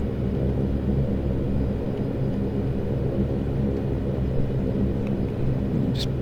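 The Saab 340's turboprop engines at ground idle in X-Plane 11 produce a steady droning rumble with a constant low hum, unchanging throughout, with a faint click near the end.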